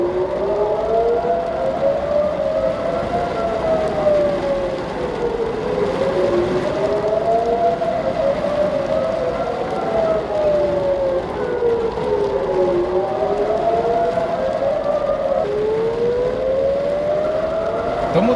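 An air raid siren in Tel Aviv warns of incoming Iranian missiles, its tone rising and falling in long slow sweeps, loud, steady and distant-sounding, with no voices.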